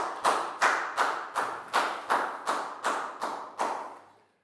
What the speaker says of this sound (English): a big round of applause for Dan, please, guys.